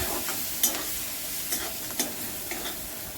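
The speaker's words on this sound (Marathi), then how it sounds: "छान असं परतून घ्यायचंय।" Tomato masala with spices sizzles steadily in a pan while a spoon stirs it, with a few sharp scrapes and taps over the constant frying hiss. The sound is close and moderately quiet, with no speech.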